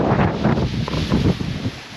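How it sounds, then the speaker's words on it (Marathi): Strong gusting wind at Korigad fort near Lonavala during a misty monsoon trek, a loud, steady broadband roar buffeting the microphone throughout, with no speech. "हवा एवढा जोरात आलेली आहे की मला पण मागं येत आहे"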